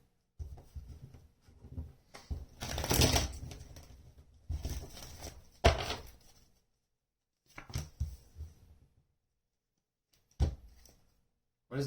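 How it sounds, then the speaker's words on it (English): Tarot cards are shuffled in several short, separate bursts of riffling and patter, close and fairly quiet, with silent gaps between them. "One more shuffle."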